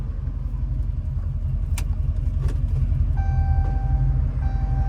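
Dodge Scat Pack car fitted with a very loud aftermarket exhaust, a deep steady exhaust rumble close by throughout, with a few faint clicks and a brief electronic chime tone near the end.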